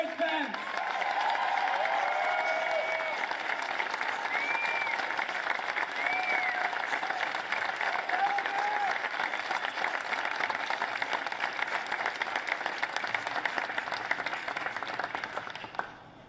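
A large audience at a Caterpillar dealership event gives sustained, dense applause to welcome Vice President Mike Pence, a loud, continuous wash of clapping with some cheering that holds steady before cutting off at the end.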